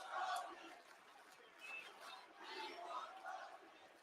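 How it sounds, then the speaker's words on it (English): Arena wrestling crowd chanting in rhythmic waves at a WWE Raw event in St. Louis, voices swelling and dipping together, loud and continuous with no single voice standing out. "I can't tell what the crowd's chanting."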